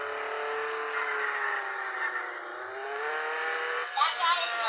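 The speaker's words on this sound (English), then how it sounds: "That is a monster truck." A monster truck engine drones in the Roblox game Jailbreak, a steady whirring hum that bends slightly in pitch, with a rougher burst near the end.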